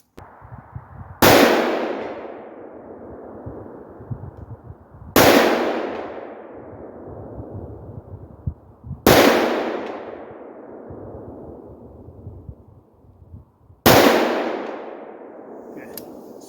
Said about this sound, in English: I've already shot 4 rounds into that steel rim